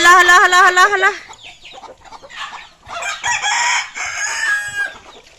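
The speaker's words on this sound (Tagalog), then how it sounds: "Nag-away ang chicken." Chickens fighting, with a loud close rooster crow opening the scene, followed by agitated clucking and squawking in bursts.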